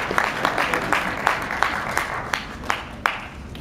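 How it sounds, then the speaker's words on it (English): Audience applause at a one-handed Rubik's cube seminar during US Nationals 2012, a sustained patter of clapping from a small crowd with a few sharper individual claps standing out, moderately loud and steady throughout. "so I guess we can give a round of applause"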